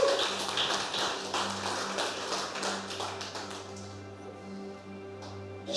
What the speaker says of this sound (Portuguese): Agora vocês podem aplaudir.